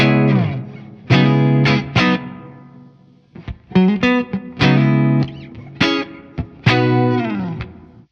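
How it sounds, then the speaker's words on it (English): Clean electric guitar chords ring out one after another through a stock plate reverb preset, each trailing into a lush, lingering reverb tail between strums. "I just think that's a sweet sound of reverb,"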